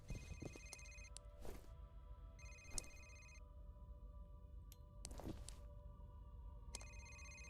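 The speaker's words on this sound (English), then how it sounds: "That person's phone is ringing." Telephone ringing inside the F.E.A.R. video game, repeated electronic bell bursts in a regular on-off pattern over a low ambient hum, fairly distant and moderate in level.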